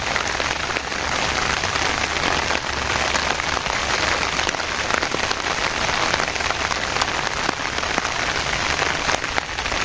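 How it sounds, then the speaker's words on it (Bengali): Steady rain pours over a village pond bank planted with young mango saplings, a dense unbroken hiss of drops striking leaves and ground at close range for the whole stretch, with no voices. "বৃষ্টির মধ্যে বেশি সময় থাকা যাবে না।"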